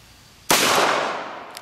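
A single sharp, loud gunshot from a .45 Long Colt revolver fired at a pumpkin cracks out at close range after near silence, followed by a decaying ring.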